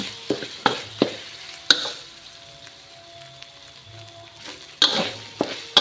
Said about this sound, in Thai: ผัดพริกแกงให้หอมก่อนนะคะ